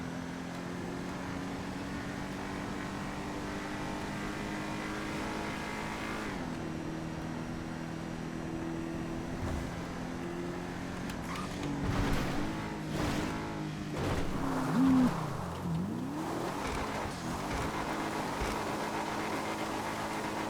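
V-STR car in Gran Turismo sliding off-road with a tap of the handbrake, its engine droning steadily and close, then a surge of revving and shifting pitch midway before settling back to a steady run.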